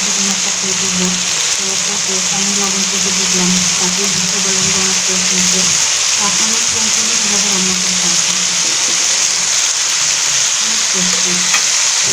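A vegetable bhaji made with banana fries in a pan, giving a loud, continuous hiss of sizzling oil that stays close and even throughout, with a low hum underneath.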